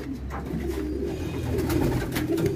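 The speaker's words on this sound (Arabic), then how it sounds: "لما باجي افتح فجأة اتفاجئ ان في حمامة طارت من المكان ده." Pigeons cooing in a wire-doored pigeon loft, soft repeated throaty calls close by, with no talk.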